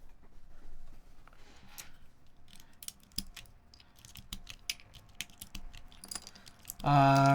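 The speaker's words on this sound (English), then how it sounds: "I might just start plucking a lot of these keycaps off of the Cappy 60" Keycaps being pulled off a Cappy 60 keyboard, a scattered run of faint clicks and plastic snaps at an uneven pace, with a louder tonal sound cutting in at the very end.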